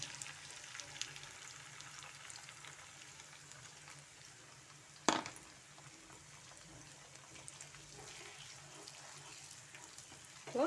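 Beaten egg added to a hot pan for road-style kothu parotta sizzles with a low steady fry, broken by one sharp clatter midway and another near the end, with no one speaking.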